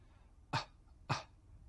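Two short, soft coughs, evenly spaced about half a second apart, close by in a quiet room.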